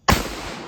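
A single loud, close shot from an Ithaca Auto and Burglar .410 shotgun fired one-handed, a sharp blast followed by a long, booming decay.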